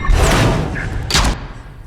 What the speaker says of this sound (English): Oh crap, it's a bomb!